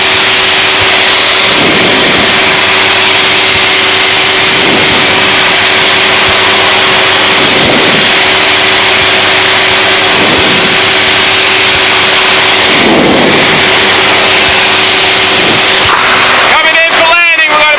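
Aircraft engine held at 2,500 RPM on a test flight with a Hartzell three-blade Scimitar prop, a loud, steady droning hum heard from inside the cabin, with periodic swells.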